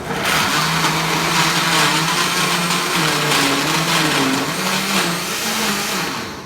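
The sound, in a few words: blender beating carrot cake batter with sugar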